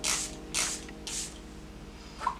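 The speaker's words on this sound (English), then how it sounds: "using a setting spray" Three quick hissing bursts of makeup setting spray in a row, then a pause and a faint click, close and fairly soft.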